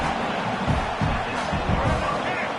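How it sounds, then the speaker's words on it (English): Stadium crowd in College Football 26, a Louisville vs Houston game, rumbling and swelling with cheers as the home defense digs in near the goal line, a dense steady roar with rhythmic surges. "And the crowd coming to life here"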